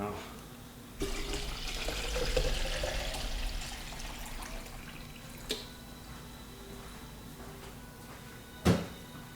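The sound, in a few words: water running from a tap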